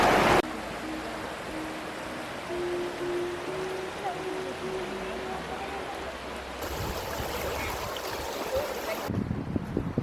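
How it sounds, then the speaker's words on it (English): A river in Zion National Park rushes steadily in a broad, hissing wash of flowing water, with wind noise and a faint voice mixed in near the walker. "So nice listening to the sounds of the river as you walk past."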